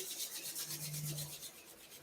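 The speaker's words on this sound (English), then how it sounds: "Take your hands and vigorously rub them together." Hands rubbed vigorously together during a breathing and relaxation routine, a steady broadband rasping swish that holds for about two seconds, close and fairly soft, with no talk.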